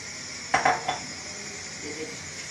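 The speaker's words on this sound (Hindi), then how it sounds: "अच्छे से हम इसका चम्मच मिला देती हूँ।" A spoon stirs soaked rice with cinnamon and a clove in a cooking pot, giving a few close metallic clinks and scrapes in a quick cluster, then quiet kitchen room tone.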